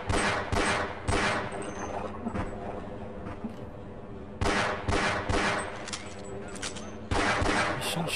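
Weapon fire in Half-Life, loud close bursts of rapid gunshots arriving in several volleys, with a steady game din between the salvos and no speech.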